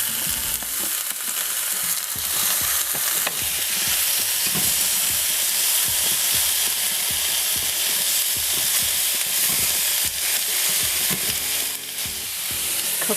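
Jackfruit fries with browned onions in a pan, giving a steady, loud, close sizzle with occasional stirring scrapes running throughout, with no talk.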